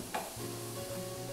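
Onion frying in olive oil in a pan, cooked down for bacalhau à portuguesa, sizzles steadily up close while a utensil stirs briefly.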